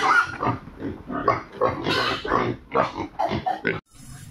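Domestic pigs kept as backyard livestock on a Philippine farm grunt and oink repeatedly in a busy, overlapping chorus close to the microphone, with no talk, before the sound cuts off briefly near the end.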